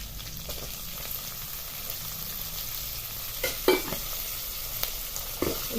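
Chillies, curry leaves and coriander stir-fried in a pan for a cabbage and dal dry vegetable dish, with a low steady sizzle broken by a few scraping stirs of a spoon near the end.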